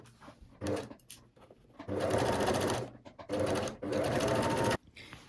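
A sewing machine stitches the seams of a crop top, running in short bursts and then two longer steady whirring runs, close and clear, with brief pauses between.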